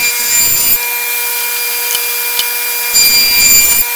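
Table saw trimming a tongue in wood for a pen display stand: a broad, near, loud cutting roar at the start and again near the end, with the blade spinning at a steady hum between the two passes, no talk.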